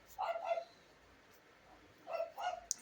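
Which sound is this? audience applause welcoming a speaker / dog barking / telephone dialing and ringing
dog barking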